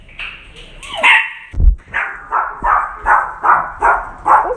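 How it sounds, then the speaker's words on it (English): A dog barks repeatedly nearby, about eight sharp barks in a steady rhythm, with a brief whine near the start. "Barking."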